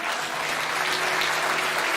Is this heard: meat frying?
no